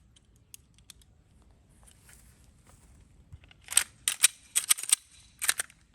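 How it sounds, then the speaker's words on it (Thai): Glock 19 pistol fired with a new recoil spring: a handful of sharp, distant cracks in a quick irregular cluster after a quiet stretch with faint clicks. "ต่อไปจะมายิงโดยใช้สปริงตัวใหม่นะครับ"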